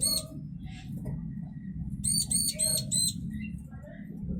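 A male bar-winged prinia returning to feed its chicks, giving short high chirps and a quick burst of repeated calls over low background noise.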